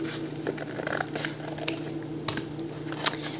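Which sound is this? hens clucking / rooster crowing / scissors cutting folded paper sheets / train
scissors cutting folded paper sheets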